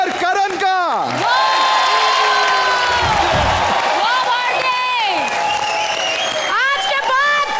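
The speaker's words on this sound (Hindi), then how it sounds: "जोरदार तालियों के साथ स्वागत कीजिए भारती और करण का।" Studio audience on a Hindi comedy show applauding and cheering loudly, steady and sustained throughout with music-like tones and shouts layered over the crowd.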